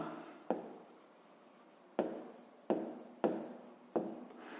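A pen writes by hand while a fifth-grade math exercise is worked out, giving a close series of short scratching strokes, each starting with a sharp tap and fading, about six in all with brief pauses.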